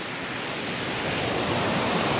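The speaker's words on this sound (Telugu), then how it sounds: "కింద చూడండి కింద దీని కింద ఒక వాటర్ఫాల్" Mettuguda waterfall at Seethampeta, running with a heavy flow of water, gives off a dense, unbroken roar that swells slightly toward the end, with no voices.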